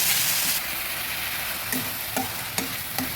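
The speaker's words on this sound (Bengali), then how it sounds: "পেঁয়াজকে সব ভালো করে ভেজে নিচ্ছি" Onion, ginger and spice paste fry in a pan with a steady close sizzle, broken by several sharp scraping stirs near the end.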